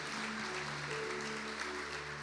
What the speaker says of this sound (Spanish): Démosle fuerte esa ofrenda de palmas a nuestro Dios.